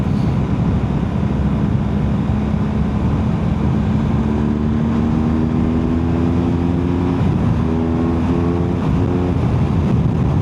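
A BMW motorcycle engine runs steadily and loudly up close, with a rough low drone, heavy wind rush and a faint rising tonal whine in the second half. No one speaks.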